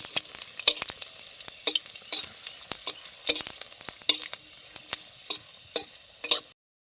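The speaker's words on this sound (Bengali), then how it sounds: "শুকনো লঙ্কা আর রসুনটা আমি এবার লাল লাল করে একটু ভেজে নেব।" Dried red chillies and garlic fry in hot oil, crackling in a steady run of sharp sizzling pops, with stirring scrapes scattered throughout at close range.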